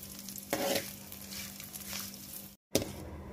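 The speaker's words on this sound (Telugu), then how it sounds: "చూడండి, ఇలా వేయించుకోవాలి." Soft sizzling and stirring of poha mixture ingredients frying in a pan, faint and close, with a brief sharper scrape as the spoon moves through them.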